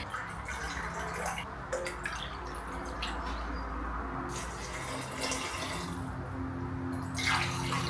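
Water is poured from a cup into a dry fried rice meal-prep mix, making a steady splashing, trickling pour close by that continues throughout with no talking.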